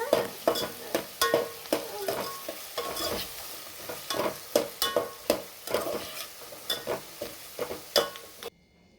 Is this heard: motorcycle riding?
no